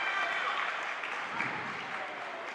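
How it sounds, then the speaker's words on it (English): Small crowd cheering and clapping at a high school basketball game on senior night, a steady, moderately distant roar of applause with no distinct voices standing out. "And I would say the crowd goes wild."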